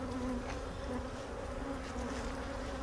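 Honey bees swarm and buzz around an opened double-deep hive during a split, a dense steady drone with a low hum running throughout at close range and no talking.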